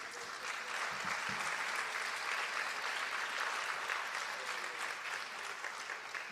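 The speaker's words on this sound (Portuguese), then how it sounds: "Você pode aplaudir a Jesus?" A church congregation at Assembleia de Deus Central in Londrina applauds, with dense, sustained clapping filling the room steadily for several seconds at moderate distance.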